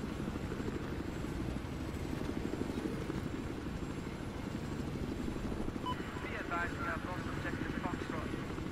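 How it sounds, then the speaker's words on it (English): In the shooter Battlefield 4, a helicopter flies close by with a loud, continuous rotor thump and engine roar. Players talk excitedly over it throughout. "There's chopper."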